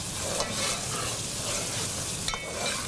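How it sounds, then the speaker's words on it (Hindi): Masala spice paste frying in a pan for aloo chicken curry, a continuous close sizzle with a couple of sharp stirring clicks and scrapes, no talking. "मसाला ऑब्वियसली भुनेगा"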